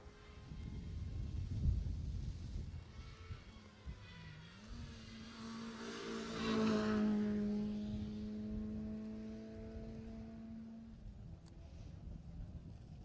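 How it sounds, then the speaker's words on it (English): A small Citroen rally car, number 66, passes on a Jersey rally stage, its engine note rising and holding a steady pitch as it comes through, loud and fairly close, with crowd or ambient noise underneath. "So that's car 66, the little Citroen, looking very comfortable coming through."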